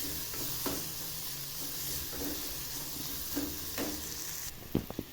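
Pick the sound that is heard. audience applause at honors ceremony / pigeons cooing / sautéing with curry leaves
sautéing with curry leaves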